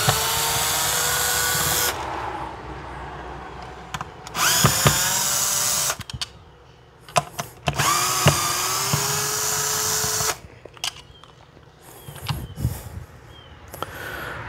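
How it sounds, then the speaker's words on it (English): A power drill backs screws out of a Ryobi 40V battery pack in several loud, close whirring bursts separated by brief pauses and handling clicks. "So let me get these screws out of here real quick."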